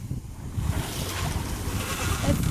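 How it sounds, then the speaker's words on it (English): A speedboat passes close by a sailboat on the Chesapeake Bay, its steady low engine drone and hull rumble mixed with wind buffeting and waves slapping the hull throughout. "Speedboat passing us."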